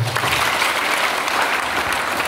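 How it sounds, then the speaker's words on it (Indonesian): Church congregation applauding during an Indonesian sermon, a steady, dense wash of clapping that holds at an even, loud level throughout. "Kita beri tepuk tangan."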